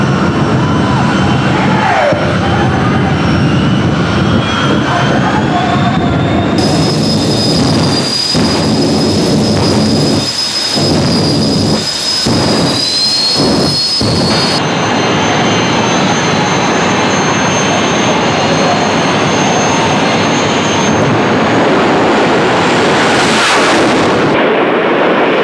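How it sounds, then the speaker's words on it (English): Jet dragster cars roar at a drag racing fire show, a loud sustained turbine blast with whining tones and a series of sharp popping bangs from afterburner flames, continuing throughout at close range. "Just enjoy the USA Jet Cars fire show."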